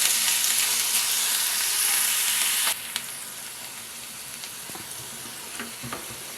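Onion pieces fry in oil alongside curry leaves, a dense steady sizzle that drops to a quieter crackle partway through, with faint stirring scrapes and no talk.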